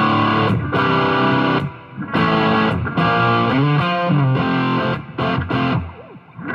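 A Suhr Pete Thorn Signature electric guitar plays through heavy distortion, loud sustained chords and bent notes in phrases separated by short gaps.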